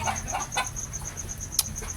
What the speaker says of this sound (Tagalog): Andyan lang yung mga inahin ko, mga dumalaga, andyan lang yan sila.